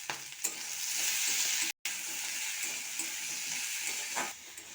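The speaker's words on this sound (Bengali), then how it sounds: "সবগুলো ভালো করে ভাজা হয়ে গেছে" Cabbage, peas, grated coconut and tomato fry steadily in a pan for dalia khichdi, a loud continuous sizzle with stirring, briefly cut out midway, no voices.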